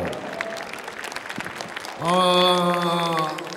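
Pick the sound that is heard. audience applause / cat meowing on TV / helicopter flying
audience applause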